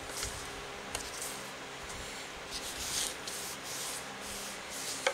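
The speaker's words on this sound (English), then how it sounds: "This is kind of sort of burnishing out so the glue will go right to the edge" Paper is burnished by hand to spread glue to the edge, a close, soft, continuous rubbing with faint scratchy strokes and small taps.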